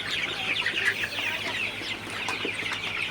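Many Sonali chickens in hot, humid weather cluck and murmur together close by, sitting in front of a fan, a busy overlapping chatter over a steady low hum.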